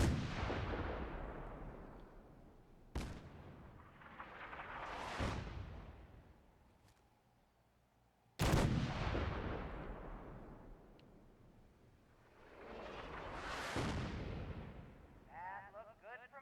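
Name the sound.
artillery fire in Fallout 4 video game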